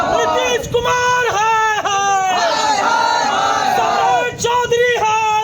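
A crowd of Pappu Yadav supporters protesting in Bihar, many voices chanting and shouting slogans in loud, rising bursts, dense and continuous at close range.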